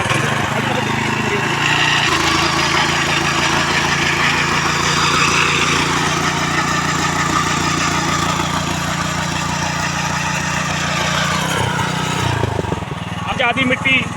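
A power tiller with a back rotary attachment and PTO in second gear runs loudly and steadily at close range for most of the clip, with a voice talking over the engine before it cuts off near the end.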